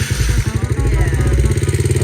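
A dirt bike's small engine fires up and settles into a loud, close, lumpy idle with rapid rhythmic thumping and a mechanical clatter, running steadily throughout.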